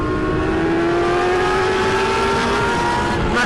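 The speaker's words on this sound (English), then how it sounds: "Listen to these bikes" Several superbike motorcycles revving loudly and continuously on a Sunday group ride in LA, a strong rising engine whine droning close by with wind rush throughout.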